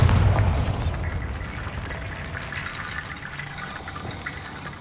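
A Bombarda spell blast in the game Hogwarts Legacy goes off with a loud, deep boom, then a rumbling, debris-like wash slowly fades over several seconds.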